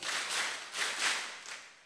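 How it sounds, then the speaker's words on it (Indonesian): A seated crowd at a religious lecture in Temanggung claps in unison in short, rhythmic broadband bursts, fairly close and without talk over it. "Tepuk 4 kali."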